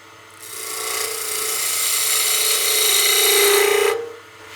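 A wood lathe makes a peeling cut on a spinning wooden block, a loud continuous raspy shaving hiss that starts suddenly, swells slightly as the tool handle rises, and stops after about three and a half seconds.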